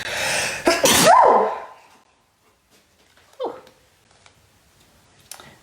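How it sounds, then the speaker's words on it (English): A loud, close sneeze bursts out, followed by near silence, a smaller sniff or vocal sound, and a faint click at the end. "Oh, I need to sneeze."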